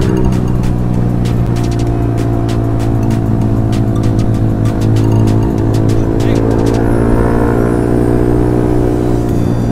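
A road vehicle engine revs hard and loud nearby, with rising and falling harmonic tones and a sharp crackling rattle early on.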